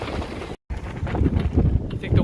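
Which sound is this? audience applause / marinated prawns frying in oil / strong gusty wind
strong gusty wind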